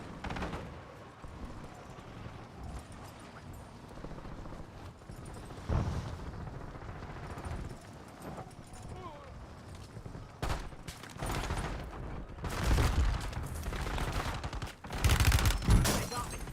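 Video game gunfire, bursts of rapid shots and louder blasts clustered toward the end, with quieter stretches between, over a faint background.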